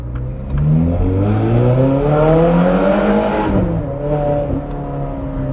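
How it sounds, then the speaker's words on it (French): A Ferrari 430 Scuderia with a Capristo exhaust revs hard and loud through rising engine pitch sweeps, broken by sharp gear shifts, before settling into a lower steady drone near the end. "Ah, la violence des changements de rapport."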